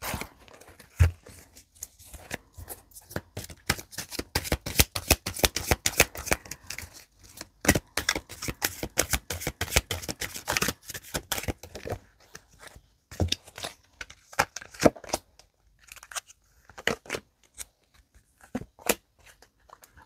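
Tarot cards shuffled by hand in a long run of rapid, crisp riffling flicks, dense and steady at first, then breaking into looser, scattered snaps toward the end, close and alone with no talk.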